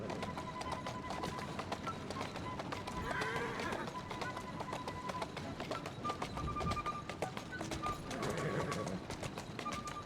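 Horse hooves clip-clopping at a run in the Victorian London streets of the video game Assassin's Creed Syndicate, a busy steady patter under a dense game soundscape with a brief whinny and faint bird calls.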